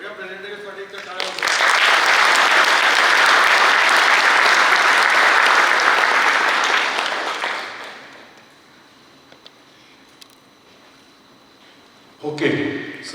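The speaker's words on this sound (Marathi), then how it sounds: "सगळ्या प्रेझेंटेशनसाठी एकदा टाळ्या." An audience at a leadership session in Nashik applauds the presentations with loud, sustained clapping that fills about six seconds and then fades out, followed by near-quiet room tone and a brief burst of noise at the end.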